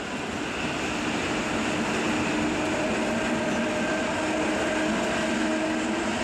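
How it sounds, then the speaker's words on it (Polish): Passenger train rumbling past on the tracks near Warszawa Główna station, a steady, loud broadband roar with faint rail squeal tones held throughout, no voices. "Mijanka z osobowym do Warszawy Rembertów."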